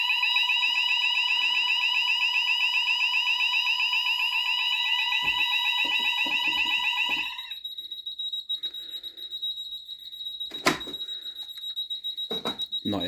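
A JSB FX2202 conventional fire alarm system sounds a loud, steady electronic alarm tone for about seven seconds during a smoke detector test, then cuts off, leaving a quieter background with a few clicks and brief knocks.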